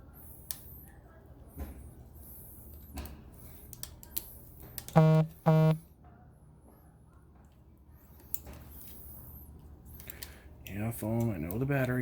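A phone sounds its low battery alert, two short bright electronic beeps close by, with voices and rustling around them while a Shark vacuum is being fixed.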